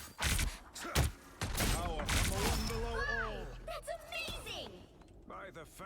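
Marvel Rivals combo of primary fire and melee attacks with a maelstrom ability, punchy impact bursts and thumps in quick rhythm under continuous game voice lines and effects.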